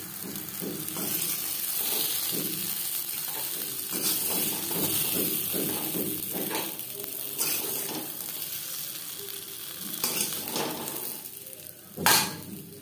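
Mustard oil and ground spice paste sizzling and frying in a wok, a steady loud hiss broken by repeated scraping stirs of a spoon against the pan, with no one speaking.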